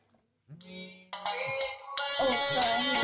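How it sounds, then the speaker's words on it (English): A phone ringtone starts after a brief silence, a loud, close melodic tune that builds into a bright, layered ringing pattern. "my phone rang and it was my nan"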